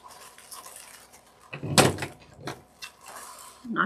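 A glue gun tips over and knocks against a tabletop while crafting, giving one loud clattering thud near the mic, followed by a smaller knock and faint rustling.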